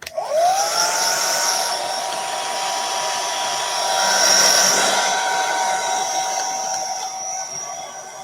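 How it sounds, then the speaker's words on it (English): A hair dryer blows steadily and loudly for several seconds to dry a poinsettia craft, a continuous close airy whoosh with a slight swell midway. "Let's just give those another blast to dry."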